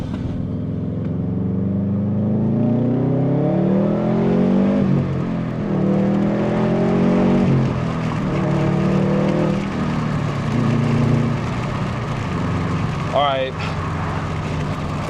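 A car engine pulls hard in second gear, its pitch climbing steadily through the revs before easing off, close and loud in the cabin, with a voice speaking over parts of the run.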